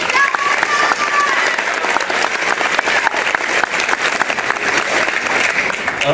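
Student audience applauding the newly elected school president at an election results announcement, loud close clapping with crowd noise and a few cheers, dense and sustained, with faint voices mixed into the ovation.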